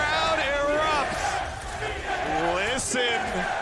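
A large esports arena crowd in New York roars and cheers after an upset at the 2022 League of Legends World Championship group stage, a dense, sustained wall of shouting with excited voices rising over the top throughout.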